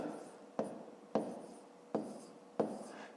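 Numbers are handwritten with a pen on paper, four distinct tapping strokes about half a second apart, each followed by a short rubbing scratch, close and quiet.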